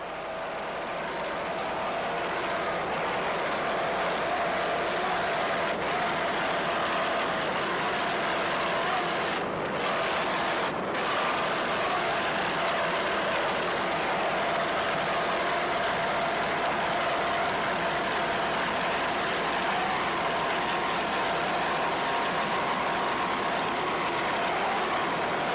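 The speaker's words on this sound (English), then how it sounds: "Powered by 2 580 horsepower Saris racing engines." A continuous, loud engine roar holds steady for the whole stretch with no talking: twin 580-horsepower offshore racing powerboat engines running at speed, Key West, 1994.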